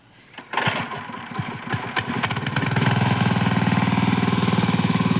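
A power weeder engine starts with uneven sputters, then settles into a loud, rapid, pulsing chug close by as it puddles a flooded paddy field.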